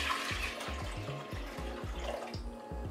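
Whole milk pours into a saucepan on a medium-heat stovetop with a continuous close liquid gurgle and splash, broken by quick rhythmic glugs throughout. No one talks over it.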